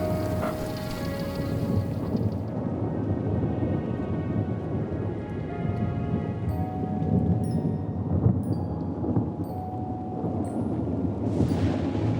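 Steady rain with deep rolling thunder rumbling throughout, a continuous storm wash with no voices.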